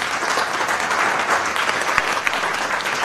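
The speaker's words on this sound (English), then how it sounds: "Big round of applause for David." Sustained audience applause at a live talk, steady and dense throughout, with no voices standing out.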